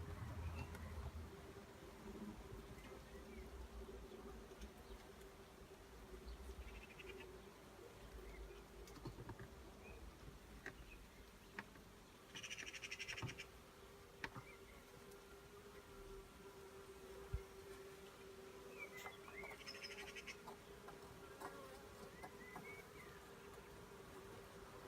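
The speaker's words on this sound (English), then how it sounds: "Wait a little bit for the bees to settle." A honeybee swarm hums around a sun hive outdoors, a faint continuous buzzing drone with occasional louder bees passing close, plus scattered soft knocks and faint birdsong in the background.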